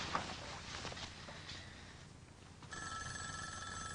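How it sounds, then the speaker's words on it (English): A telephone rings in a quiet indoor room at night: a steady, fairly loud electronic ring that enters partway through and keeps going, after faint earlier background noise. "Robin, don't answer the phone"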